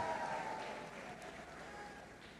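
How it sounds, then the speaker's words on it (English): Graduates at an IB graduation ceremony applaud their parents, a fairly soft, steady wash of clapping from a crowd that fades slightly over a couple of seconds, with faint tonal sound beneath. "IB group, please give a round of applause to your parents."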